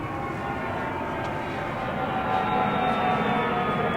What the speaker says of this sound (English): you'll probably be hearing airplanes flying overhead every once in a while